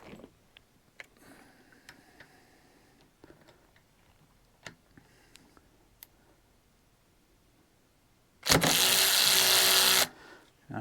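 A Hyper Tough 12v cordless ratchet set to 30 foot-pounds tightens in one loud, steady buzzing burst of about a second and a half, after several quiet clicks and handling taps.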